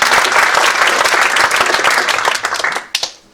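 Round of applause from an audience at an online HyNet meeting, steady dense clapping that thins out and fades near the end.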